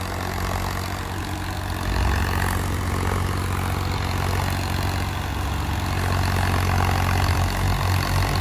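A brand-new Swaraj 763 FE 4x4 tractor with front ballast weights runs steadily with a 10-foot rotavator, a continuous low engine drone that stays near and loud throughout.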